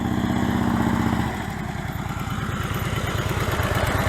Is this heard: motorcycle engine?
yes